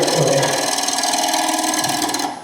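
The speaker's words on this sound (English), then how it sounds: "I'm going to drill a hole anyway." A drill bores a hole into a piece of wood mounted for woodturning, giving a steady, loud whirring buzz for about two seconds before it winds down and stops, with no speech.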